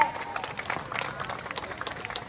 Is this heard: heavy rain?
no